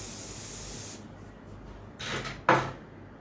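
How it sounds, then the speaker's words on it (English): Hair shine spray from an aerosol can, misted onto hair during a salon styling demo: a soft hiss followed by two short, sharper bursts of spray, close and clear with no talking over it. "I'm going to add shine spray."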